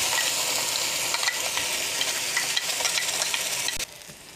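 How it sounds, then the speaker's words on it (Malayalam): Ground masala paste added to onions frying in a pan for a curry gravy gives a continuous moderate hiss with occasional scraping strokes, ending in a quieter stretch near the end. "ഇപ്പോൾ നമ്മൾ മുൻപ് അരച്ച് വെച്ച അരപ്പ് ഇതിലേക്ക് ചേർത്ത് കൊടുത്തിട്ടുണ്ട്."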